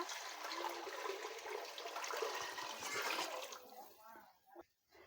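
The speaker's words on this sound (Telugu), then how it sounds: "గిన్నె బియ్యానికి రెండు గిన్నెలు నీళ్ళు అయితే పోసుకుంటున్నాను" Steady rushing water pours into a pot of rice for about four seconds, loud and close, then cuts off abruptly, followed by faint clinks and a brief voice.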